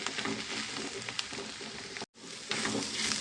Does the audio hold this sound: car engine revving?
no